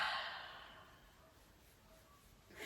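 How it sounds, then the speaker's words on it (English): A single breathy exhale during a yoga session, close and soft, starting strongly then tapering off, followed by the start of another breath near the end. "Exhale, let it out."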